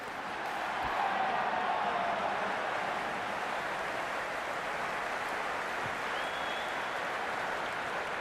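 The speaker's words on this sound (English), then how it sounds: "It's evident and ever so audible that the crowd is at near bursting point at today's play." A stadium crowd roars continuously in the Cricket 26 video game during an IPL match, Mumbai versus Hyderabad, a steady loud wash of cheering and applause that stays even throughout.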